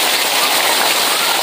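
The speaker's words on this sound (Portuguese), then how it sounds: "olha essa chuva!" Heavy rain pouring down outdoors, a loud, dense, unbroken roar of hissing drops that fills the whole moment at close range.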